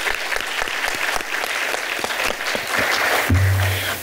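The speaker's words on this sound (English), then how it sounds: "Y'all give her another round of applause." Audience clapping at a women's conference honoring a sorority member, a dense burst of applause with sharp individual claps, fairly close and steady, then a low thud near the end.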